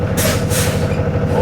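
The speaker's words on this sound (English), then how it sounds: "So I'm releasing the parking brake." Air brake on a Saf-T-Liner school bus being released, two bright bursts of escaping air over a steady low engine idle, close and fairly loud, no talking.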